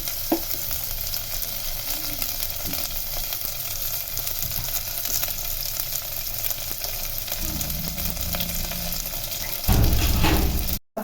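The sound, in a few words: curry leaves frying in oil for fish head curry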